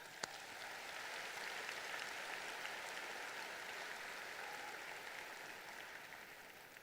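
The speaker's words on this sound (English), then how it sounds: "How about a round of applause for that?" A large audience applauds at a high school graduation ceremony, a steady, dense wash of clapping that holds at an even level from start to finish with no talk over it.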